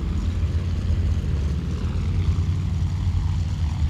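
The radial engine of a Hughes H-1 racing plane in the Flight Simulator X game drones steadily during a landing approach, a loud, continuous low rumble with a rough propeller throb and no speech.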